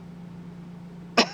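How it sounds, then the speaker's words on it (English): A single short cough from a man who has the flu, sudden and fairly close, breaking through a steady low electrical hum. "I've been holding back the cough."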